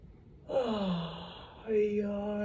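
A person yawns twice during a relaxing breath meditation, a long voiced drawn-out yawn trailing off, then a second shorter one, close and clear in a quiet room.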